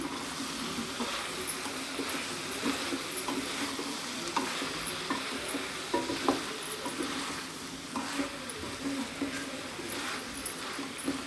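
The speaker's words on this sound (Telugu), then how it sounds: "ములక్కాడలు మగ్గటానికి కొంచెం సాల్ట్ యాడ్ చేస్తున్నాను ఒకసారి మిక్స్ చేసుకుందాం" Drumstick curry cooking with milk in a pan, stirred after salt goes in: a soft, even sizzle with irregular scraping and clinking of a spoon, fairly quiet and close.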